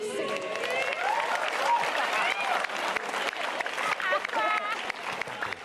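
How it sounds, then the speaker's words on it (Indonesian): Applause from a stand-up comedy audience rolls on as steady clapping, with excited voices and whoops rising over it. "Beri tepuk tangan untuk Bintang dan Semi."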